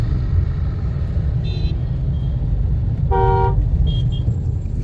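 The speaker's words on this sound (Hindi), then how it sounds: "ट्रैफिक कितना हो जाता है सुबह सुबह," Steady road traffic rumble with a car horn tooting sharply a few times, one long honk and shorter toots, nearby.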